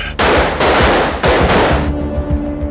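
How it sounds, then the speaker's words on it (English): Rapid bursts of gunfire on a Secret Service training firing range, loud and close, coming in three heavy volleys with echoing tails. "Recruits spend hours on the firing range."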